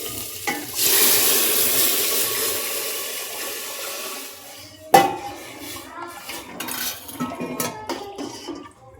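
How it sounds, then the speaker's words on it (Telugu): Gram flour being mixed by hand into buttermilk in a bowl for a kadhi dish: a steady wet swishing at first, then a sharp clank followed by scattered knocks and stirring sounds. "ఈ మజ్జిగలో శనగపిండి మిక్స్ చేయాలి"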